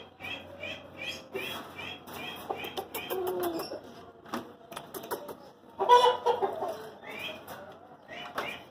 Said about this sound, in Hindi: दूसरा ये मुर्गा है